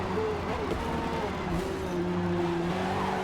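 Race cars, including a Corvette C7 and a Porsche, drone and whine together on the Grand Oak Raceway track in Forza Motorsport, a steady dense engine roar with sustained tones and some tire noise.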